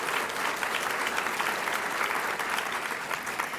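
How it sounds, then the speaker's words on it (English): Hearty clapping from a crowd at a Boston hall-of-fame awards event, a dense, even wash of many hands at moderate level, continuing steadily without talk. "Somebody was clapping for Paul."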